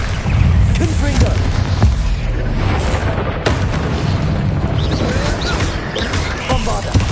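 Confringo spell blasts in the Hogwarts Legacy video game, loud continuous explosive booms and crackling combat noise throughout, with a voice shouting over the din.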